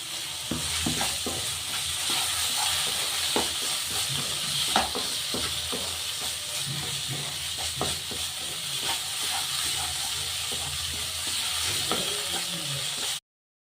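Masala sizzles in hot oil in a pan for peas vermicelli bath, with continuous close frying hiss and repeated scraping strokes of a spoon as salt is stirred in.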